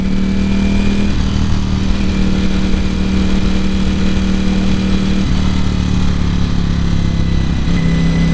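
A 2018 Ducati Panigale V4 sport bike hums steadily while being ridden, loud and close with wind noise and a few slight pitch dips as the engine note shifts, and no voices.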